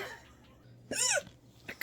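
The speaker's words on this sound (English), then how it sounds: "So frustrating to have the hiccups" One sharp hiccup bursts out suddenly after a quiet pause, close to the microphone, followed by a small breathy catch.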